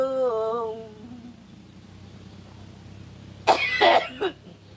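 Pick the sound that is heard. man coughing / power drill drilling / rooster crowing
man coughing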